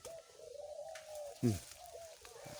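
Spotted doves cooing at a dove breeding camp, with several soft repeated coos from nearby birds and one louder, closer burst midway, over faint background noise.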